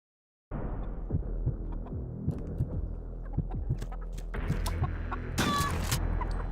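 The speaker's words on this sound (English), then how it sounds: "Oh no, not the chickens." Chickens cluck and scratch around in the medieval game 1348 Ex Voto, a steady close farmyard bed of clucks and rustles with a brighter squawk burst near the end.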